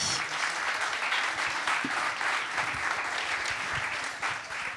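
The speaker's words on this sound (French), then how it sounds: "On peut les applaudir." Audience applause at an award ceremony, honoring the jury: steady, dense clapping from a sizable crowd, sustained at even loudness throughout.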